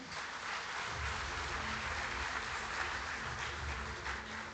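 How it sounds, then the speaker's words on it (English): An audience at a financial inclusion awards event applauds the finalists with steady, moderately distant clapping that fills the whole clip at an even level. "A round of applause for the finalists."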